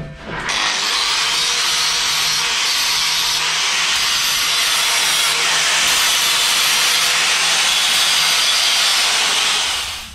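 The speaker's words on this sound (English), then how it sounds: "I'll just give that a quick clean with sander." A power sander cleans up a steel part for the footwell pivot of a 7.25-inch gauge steam locomotive, giving a steady, loud, continuous abrasive hiss and whir that runs almost unbroken throughout, with no talking.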